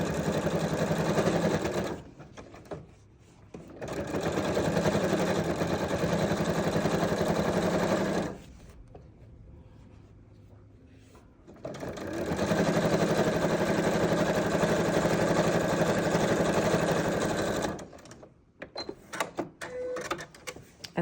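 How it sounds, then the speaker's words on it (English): A sewing machine stitches binding onto a quilt about a sixteenth of an inch from the edge, running in three steady bursts separated by pauses, with faint handling noise in the gaps. "we're gonna sew like a 1/16 of an inch in"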